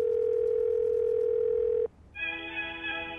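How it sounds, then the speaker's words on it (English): Telephone ringback tone on a phone call: a steady, even tone holds for almost two seconds, then breaks off and gives way to a brighter tone of several pitches. "Enjoy this ringback tone while your party is reached."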